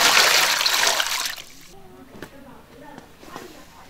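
Hot water scooped and splashed over beef hooves being rinsed for a spicy braise, a loud burst of pouring and splashing for the first second and a half, then quieter drips and small knocks.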